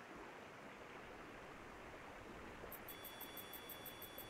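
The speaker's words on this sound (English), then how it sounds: "I hear a waterfall over this one." A waterfall in the video game Sons of the Forest, a steady, broad rush of falling water with no breaks, fairly faint, joined near the end by a soft repeating high chirp.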